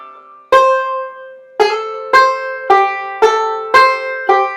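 A banjo plays a Kansas City Railroad Blues phrase with a slide and a hammer-on. Seven bright, close plucked notes ring out in an uneven rhythm, each decaying quickly, with no voice over them.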